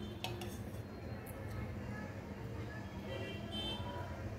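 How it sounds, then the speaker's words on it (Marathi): A spoon clinks against a cooking pot while ghee is added for a sweet potato recipe, a few light metallic taps heard under a voice in a home kitchen. "3 चमचे घालते आहे मी या चमच्याने।"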